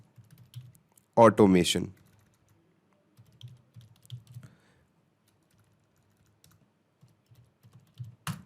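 Short bursts of keystrokes on a computer keyboard tap out in small clusters across several seconds, quiet and close, with one brief spoken word breaking in early on.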